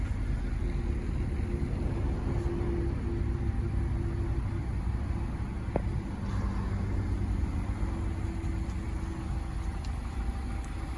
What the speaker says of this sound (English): So the 2023 MX-5. Backing out, we're gonna take it for a test drive.